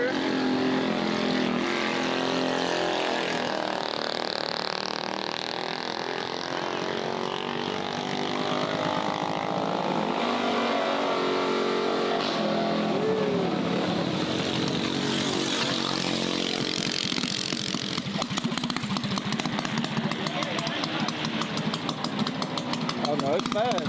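A mini bike motor revs at an outdoor Sunday bike meet among a crowd, a buzzy engine rising and falling in pitch close by, with people talking over it the whole time.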